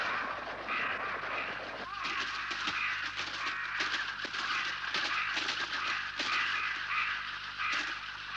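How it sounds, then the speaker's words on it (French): A huge flock of cartoon crows caws continuously over a farm in a 1960s animated series, the harsh calls dense and overlapping throughout, with voices speaking over them. "Mais des centaines de corbeaux ont attaqué la ferme, ils sont en train de dévorer les récoltes."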